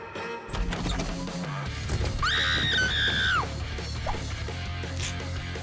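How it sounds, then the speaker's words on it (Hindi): A woman's loud, sustained scream rises and holds for about a second mid-clip, standing out over a busy backdrop of rumbling noise and clatter. "तुम चिल्ला क्यों रही हो?"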